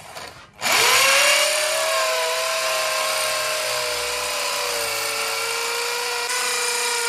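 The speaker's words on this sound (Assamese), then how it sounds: "আজি মই নিজে মানে ড্ৰিলটো মাৰি চালো কিমান কষ্ট হয়" A handheld power drill bores into a wall during house building, starting abruptly after a brief pause and then whining loudly and steadily at an even pitch for several seconds, with no voices.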